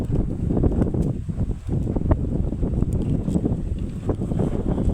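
Strong wind on Mount Wilis near the Godean post in Loceret buffets the microphone in a steady, loud low roar with gusty swells and no talking throughout.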